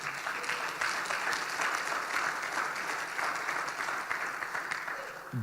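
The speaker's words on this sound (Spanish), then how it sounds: "démosle un fuerte aplauso al Señor." A church congregation claps loudly for the Lord during a Spanish-language sermon, a dense, sustained wash of hand clapping that holds steady for several seconds with no voices on top.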